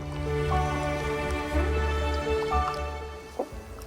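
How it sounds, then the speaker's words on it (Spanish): Raw wool is worked by hand in a container of washing water to open up the fibres, giving soft sloshing, dripping and trickling sounds over a steady low background hum, close and fairly quiet with no speech. "se trata de ir abriendo la fibra de la lana dentro del agua"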